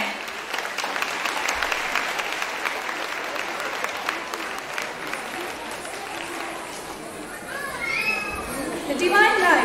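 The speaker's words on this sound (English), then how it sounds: "Big round of applause for them." Audience applause at a school festival, sustained clapping that gradually thins while children's voices and playful shouts rise toward the end.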